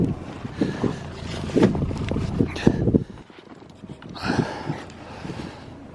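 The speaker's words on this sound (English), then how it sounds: "Look at that wind blowing." Wind blows outdoors on a cold rural road, buffeting the microphone in gusty rumbles, with brief scuffs and a short lull before it picks up again.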